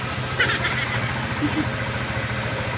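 A repaired engine on a vehicle that kept stalling idles steadily nearby, a low continuous rumble with slight knock, faint background sounds over it.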